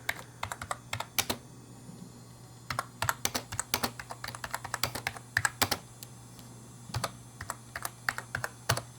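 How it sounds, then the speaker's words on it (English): Bursts of rapid key clicks on a computer keyboard attached to a Power Mac G4 Cube, close and crisp, with short pauses between runs of typing and no talking. "let's just use this color and type in some words of some sort"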